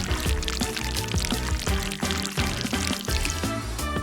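Water pours and splashes in a steady, continuous rinse, loud and close for the whole stretch, with no talking.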